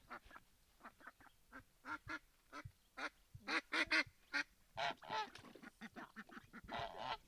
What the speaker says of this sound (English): The bigger goose just got chased out of the the duck room.